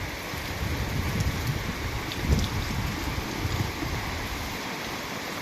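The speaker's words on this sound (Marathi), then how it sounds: "पाऊस खूप आलेला आहे" Steady rain falls with a dense, even patter and broadband hiss, no voices, the texture constant throughout.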